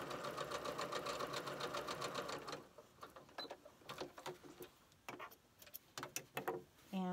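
Sewing machine stitching to tack down a scalloped crumb quilt border, a close, fast rhythmic needle run for a couple of seconds, then short stop-start bursts of stitching with clicks between.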